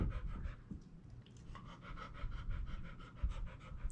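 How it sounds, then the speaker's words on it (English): A Labrador dog pants steadily and rhythmically close by, quick breaths repeating throughout with no talking. "What a big dog."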